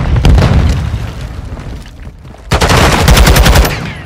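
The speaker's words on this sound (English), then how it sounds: "set a charge on the target and detonate it" A detonated charge booms in the video game Modern Warfare 2, a loud blast landing midway with dense gunfire bursts rattling around it before and after.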